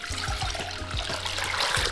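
Water poured into a pot holding chiles and spices, a continuous splashing gurgle with rhythmic glugs from the pouring vessel, close and fairly loud.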